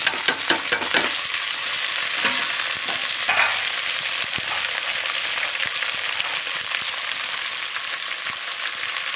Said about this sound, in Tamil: இப்போ நம்ம இந்த காய் எல்லாத்தையும் கொட்டிக்க போகிறோம் பாருங்கள்